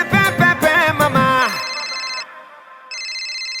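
A phone rings with a repeating electronic ringtone, starting under loud singing and music that cut off, then continuing alone in steady bursts.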